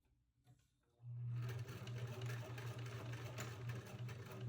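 A sewing machine stitches a fabric scrunchie, starting after a quiet second, then running as a steady, close, even mechanical whir with a rapid rhythmic needle beat until the end.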